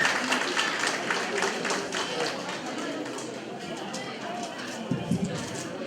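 An audience applauding at a ceremony as two men are called up onto the stage, a dense, steady wash of many hands clapping throughout that thins slightly toward the end.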